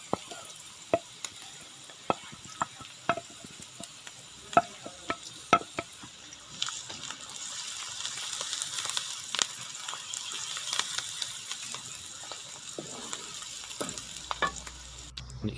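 Green chili, garlic and ginger sizzle in hot oil in a pan with sweet potato, with a soft steady fry broken by sharp clicks of stirring, the sizzle swelling louder midway.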